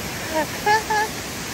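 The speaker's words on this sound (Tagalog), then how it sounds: "Ayun, ang waterfalls. Ang ganda-ganda." A waterfall in Chichibu, Japan, a steady broadband roar of falling water, with faint tonal sounds rising briefly over it.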